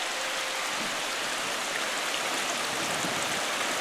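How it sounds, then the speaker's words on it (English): A babbling brook on the outdoor grounds of Disney's Wilderness Lodge flows toward a pool, giving a steady, close, broadband rush of running water with no pauses and no voices. "you can see the stream kind of flowing towards the pool"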